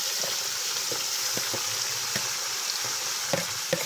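Steady sizzling of garlic frying in a hot pan, with small pops and utensil scrapes scattered throughout.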